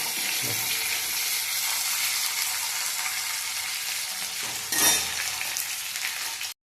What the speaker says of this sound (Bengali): এই কলাগুলো দিচ্ছি তেলে, কলাগুলো ভেজে নিই